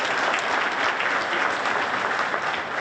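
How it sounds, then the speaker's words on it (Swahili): Sustained applause from an audience at a hotel launch event in Arusha, a dense, even wash of many hands clapping steadily throughout without a break. "Jamani, naomba tupige makofi jamani."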